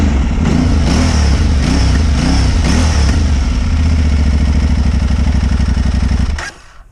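Aprilia Tuareg 660 motorcycle engine heard up close, loud and steady with repeated revving blips over a throbbing idle, then a sustained higher-rpm drone before it cuts off near the end.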